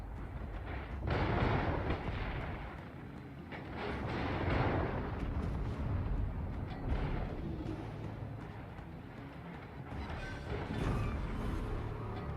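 Naval gunfire from warship main batteries in World of Warships, heavy booming salvos rolling out in several loud bursts over a constant low engine and sea rumble, with no talk.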